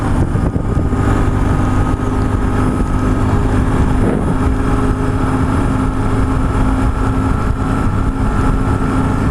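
A BMW R1150GS motorcycle runs in third gear heading for a freeway, its engine a constant loud drone mixed with road and wind roar throughout, no voices.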